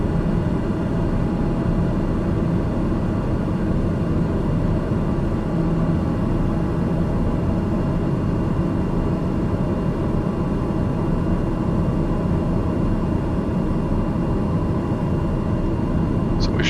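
Steady, loud engine drone from an aircraft throttled back on approach to Lukla, a broadband rumble that holds evenly throughout with no speech over it.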